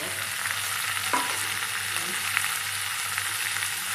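Mutton chops sautéing with tomato in a pan, a continuous close sizzle and crackle of frying with a few sharp pops and stirring scrapes, heard alone without talk.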